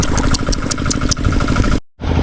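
Irrigation water pump engine running on a rice farm, a loud steady mid-pitched chugging drone with regular pulses, cutting out briefly before resuming.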